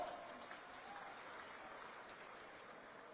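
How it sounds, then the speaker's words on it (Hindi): Crowd applause at a political rally in Chhattisgarh, a faint, distant, steady patter of clapping from a large gathering, muffled and without speech over it. "ताली मारो।"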